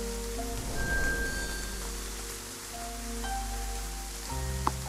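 Rain falls steadily in the mobile game Promise of Lingyun, a soft continuous hiss beneath faint tonal game music, with a small chime near the end.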